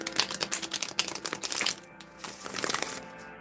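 Playing cards being butterfly-shuffled by hand, a quick riffling flutter of crisp card snaps that rattles for under two seconds, then a softer second run of shuffling, near and fairly faint.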